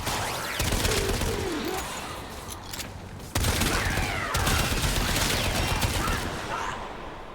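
Aeolac gun from Warframe firing in bursts of shots and booms over a busy game soundscape, loud and close, with a sharp break midway before the firing resumes.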